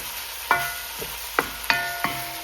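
Jamaican curry chicken being turned in a pot with no water: four sharp, ringing spoon scrapes against metal, spaced about half a second apart, over a faint steady sizzle.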